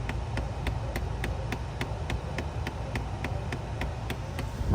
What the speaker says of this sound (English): So you hear this little click, click, click, click, click.